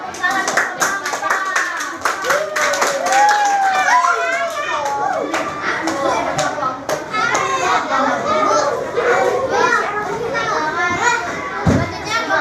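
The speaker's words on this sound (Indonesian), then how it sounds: "Tepuk tangan bersama-sama." Schoolchildren in a primary classroom clap together in a lively burst of sharp, overlapping handclaps, mixed with excited children's chatter and voices throughout.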